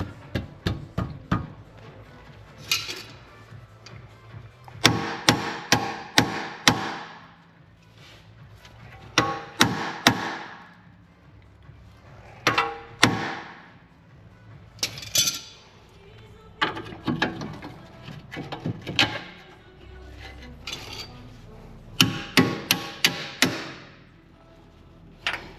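Hammer blows on metal during suspension work on a BMW X5 with the M57 engine, loud clanking strikes in irregular bursts of several hits separated by short pauses.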